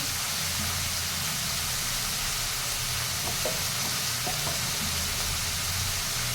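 Vegetable pieces fry in oil with a steady, hissing sizzle and occasional soft stirring scrapes, close and continuous throughout with no voices.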